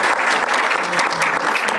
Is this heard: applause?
yes